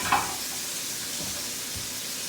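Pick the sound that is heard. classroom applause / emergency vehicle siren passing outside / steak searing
steak searing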